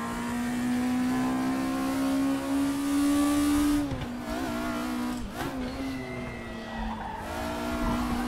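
Tyres of a Volkswagen Scirocco Group 2 race car squeal and slide at Brands Hatch in RaceRoom, a sustained loud screech over the droning engine that wavers as the car drifts through the corner.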